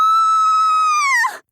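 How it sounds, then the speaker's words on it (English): A single piercing, high scream rings out from a restaurant, loud and close, held steadily for over a second before cracking and breaking off abruptly into silence. "a piercing scream came from the restaurant"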